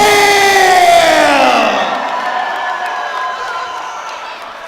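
A large crowd at a British MMA event roars and cheers for welterweight champion James Hale, loud at first and slowly fading, with an announcer's voice over it.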